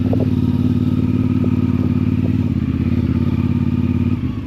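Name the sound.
motorcycle riding through mud on a trail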